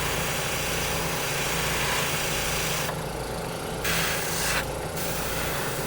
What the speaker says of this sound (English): I'm just blowing straight air right now to dry that.